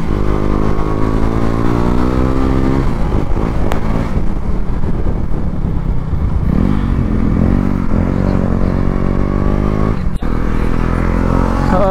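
A KTM Duke 250 motorcycle pulls away at full power, its engine a loud close roar with rising and falling revs and gear changes throughout, heard alone without talk.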